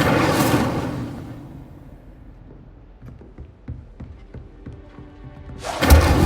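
A fire spell being cast in Hogwarts Legacy on PS5, with a loud whooshing burst of flame at the start, a quieter stretch of soft thumps and clicks, then a second fiery burst at the end.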